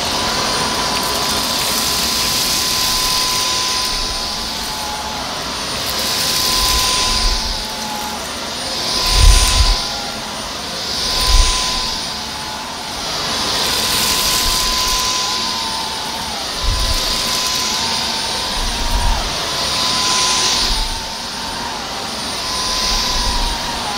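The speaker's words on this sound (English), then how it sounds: "I'm going to use the Omniglide on its normal setting, but if it struggles, I will switch to max." A Dyson Omniglide Plus cordless vacuum runs on its normal setting over a short-pile doormat, a steady loud whine with repeated low thumps and surges as the head is pushed back and forth.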